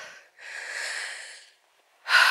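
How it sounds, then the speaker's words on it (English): Heavy, deep breathing from someone climbing a steep path on a walk along the north side of Cheddar Gorge: a short breath, a long drawn-out exhale, then a sharper breath close to the microphone, with no talk. "Hence the deep breathing, everyone."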